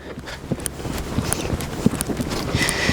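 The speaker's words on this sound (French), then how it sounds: "mettre le cheval au trot" Horse trotting under a rider during a schooling session, hooves clip-clopping in a steady quick rhythm at moderate distance over rustling background noise.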